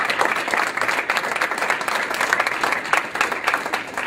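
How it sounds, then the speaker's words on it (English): A school audience applauds a board and principal with loud, close, sustained clapping from many hands, dense and unbroken throughout. "I want you to give your board and Principal Wilson, the school district, a hand of applause"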